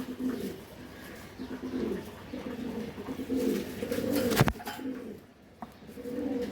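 Racing pigeons coo in a low, steady murmur of repeated throaty calls, close by, with a brief sharp noise burst partway through.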